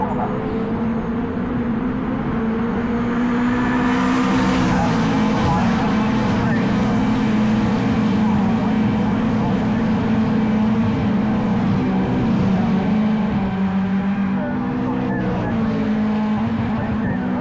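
Caterham race cars racing on a circuit, engines droning loud and continuous with shifting pitch as they pass close, while a commentator talks over them.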